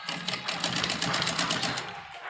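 Sewing machine running steadily at close range, basting loose temporary stitches around the neckline of a V-shape umbrella frock, a continuous rapid mechanical whir with no pauses.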